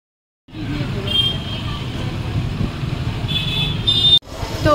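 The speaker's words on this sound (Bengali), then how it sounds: "কি জোরে হর্ন দিতে দিতে যায়।" Traffic on a busy road in Puri during Rath Yatra, with a steady loud rumble of passing vehicles and short sharp horn toots cutting in twice, close by.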